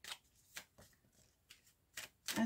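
Tarot cards being shuffled before a seven-card reading, soft, quiet riffling bursts recurring irregularly with short gaps between them.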